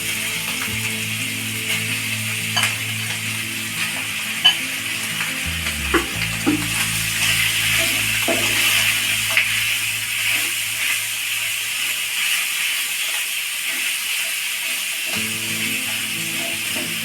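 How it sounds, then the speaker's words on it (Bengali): Chicken fries in a pan with cumin tempering, giving a continuous, fairly loud sizzling hiss with a few scattered clinks over a low steady hum, and no one speaks. "চিকেনটা ফ্রাই করব"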